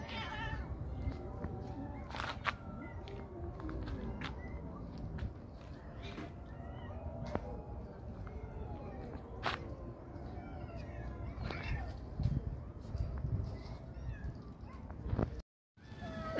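A cat meowing in short repeated calls over a background of movement and murmuring voices, fairly close but not loud.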